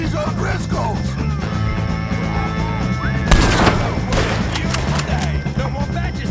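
Gunshots crack through a shootout in Red Dead Redemption 2, a sharp volley bursting out mid-scene with echoing reports over a low musical score, while voices shout and talk throughout.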